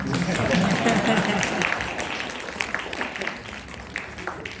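A burst of clapping and crowd applause swells at the start, then thins out into scattered claps and fades.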